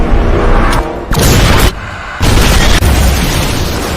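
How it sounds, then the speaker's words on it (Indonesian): Suicide bomb explosion in a war film about a rescue mission: loud repeated booming blasts with dense rumbling debris, a brief lull around the middle, then another heavy burst that roars on to the end. "Brodetsky dan Mayor tewas terbunuh karena ledakan bom bunuh diri"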